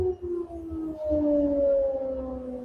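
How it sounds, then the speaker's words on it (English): A distant wailing siren rises and holds a long tone, faint and drawn out over low background noise. "is that the siren?"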